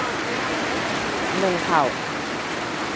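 Steady rain pours outside a rural countryside house, a dense even hiss throughout, with a voice speaking briefly in the middle.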